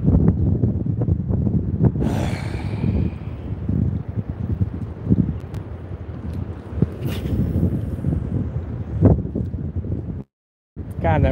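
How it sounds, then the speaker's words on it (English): Steady wind gusting across a microphone on a river during low-tide shad fishing, a constant rumbling roar that continues throughout with a brief dropout near the end and no speech. "that wind is killing my casts"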